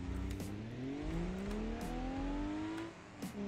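A car engine in a BeamNG.drive multiplayer race roars past, its revving pitch climbing steadily and then dropping off as it goes by, loud and continuous with no talking.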